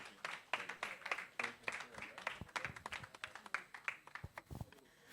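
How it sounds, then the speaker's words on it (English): An audience at the NIFS Lagos event claps to welcome a speaker to the stage, a quiet patter of scattered hand claps with voices mixed in. "Can I give her a hand of applause?"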